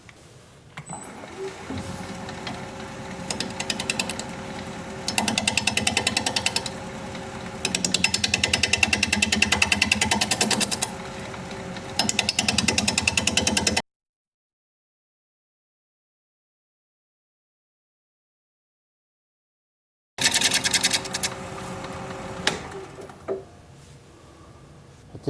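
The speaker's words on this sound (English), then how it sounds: "I can only turn it about 600 RPM with a 5/8 inch bowl gouge" A sassafras bowl, still out of balance, spins on a lathe at about 600 RPM while a 5/8 inch bowl gouge cuts it, giving a loud rattling, chattering drone that drops out abruptly, then returns.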